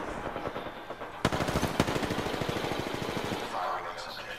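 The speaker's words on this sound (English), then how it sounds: "Firing on subject." Rapid automatic gunfire in the video game Apex Legends, a sustained burst of evenly spaced shots with a couple of louder cracks near the start, set against busy game background noise.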